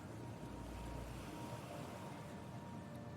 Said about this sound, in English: The waves are so loud I couldn't hear you for a second.